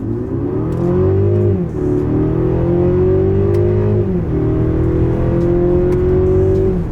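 A Mercedes-Benz GLC 300 mild hybrid in sport mode, manual first gear, accelerates hard from a standstill, its engine note climbing loud and steady through two upshifts with brief dips before rising again.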